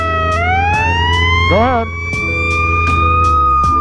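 A Chicago Fire Department fire truck siren wails loudly and close, its tone rising and sweeping with a brief yelping warble, over a steady engine rumble while someone speaks briefly.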